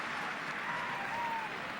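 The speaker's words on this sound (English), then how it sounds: "Big, huge cheer for Tomás O'Shea going off" A stadium crowd at a Kerry versus Cork Gaelic football replay roars and applauds steadily, a dense, broad wash of cheering held at even loudness throughout.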